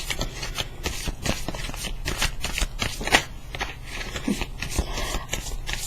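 Tarot cards being shuffled continuously, with dense rapid riffling and flicking strokes close up, steady throughout with no talk.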